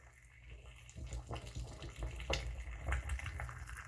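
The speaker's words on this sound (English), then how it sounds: "Slowly pour in the boiling water." Boiling water pouring and trickling into a bong during cleaning, a soft steady splashing with a few louder gurgles, fairly close and without voices.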